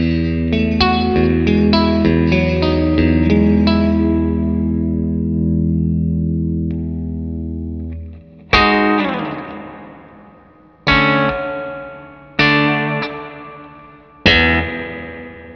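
Guitar run through a ScreaminFX Uverbia real spring reverb pedal, first a sustained strummed passage, then four separate struck chords, each ringing out with a long washy spring tail, loud and close with no talking.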